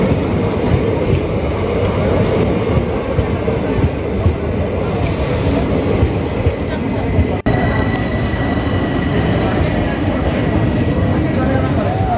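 A passenger train rolls into the station on the Bhawanipatna to Cuttack route, loud rumbling wheels and clattering carriages close by, with people talking over the noise throughout.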